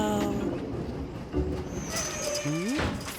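A cartoon train rolls into a train wash, with a steady rumbling mechanical wash, a squealing wheel-like pitch glide near the end and splashing bursts, continuous and close.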